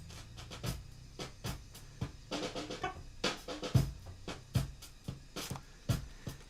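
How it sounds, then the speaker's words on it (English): Drum-like material pushed through a noise gate with an extremely fast attack, giving a scrunchy, choppy texture: a series of abrupt clicky bursts that cut off sharply, with a low hum underneath. "That is the sound of gating at a very fast attack speed"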